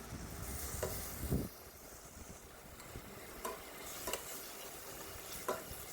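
Fried onions sizzle steadily in hot oil in a pan, a soft continuous hiss broken by a few sharp clinks and scrapes of stirring.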